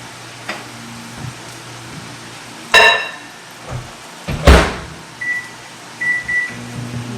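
Butter sizzling in an overheated pan on a home stove, a steady hiss under sharp clunks of cookware and a couple of short electronic beeps.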